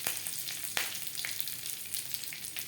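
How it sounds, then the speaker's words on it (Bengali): Curry leaves frying in hot oil with garlic over a low flame, a steady crackling sizzle with a few sharper pops, close and fairly quiet. "কারি পাতা সাবধানে ভাজতে হবে"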